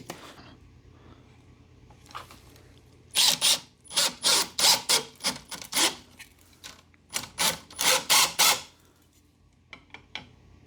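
A Star-M countersink bit drills into wood at a 45-degree angle in a rapid run of loud, rasping bursts that quickly rise and fall, then stops; quiet room noise fills the gaps before and after.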